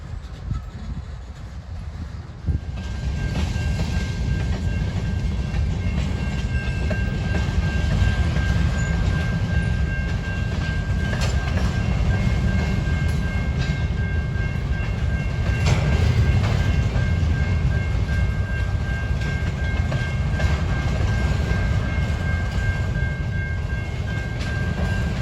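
Two old CSX Geep locomotives switching railcars at an interchange in Decatur, Alabama, a steady loud diesel rumble and rolling rail noise heard from close by, with no talk.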